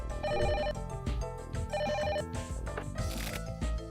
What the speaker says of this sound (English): Oh shit, the phone's ringing.